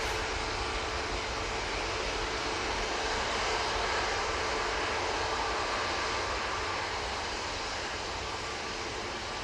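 A TUI airliner accelerates on its takeoff roll at Manchester Airport, a steady, broad jet engine roar at moderate distance, continuous throughout with no voices.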